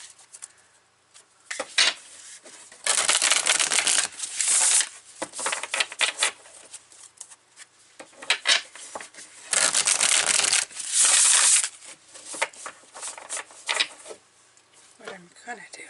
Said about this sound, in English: I'm going to put a little cloth here for you guys so it's not quite as loud when I shuffle.